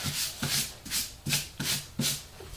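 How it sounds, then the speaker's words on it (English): Hand sanding a wooden marble game board, six quick rhythmic back-and-forth rasping strokes about half a second apart, close and crisp with no talk. "sand it up a little bit."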